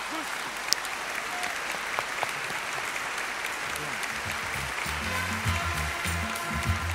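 Sustained audience applause at an award show, the Zlatna Bubamara 2010 ceremony, a dense steady clatter of clapping from a large crowd, with music and a voice rising underneath in the second half.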